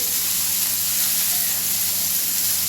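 Soybean pieces sizzle and fry steadily in a kadai while being stirred, a continuous broad hiss with no talking over it.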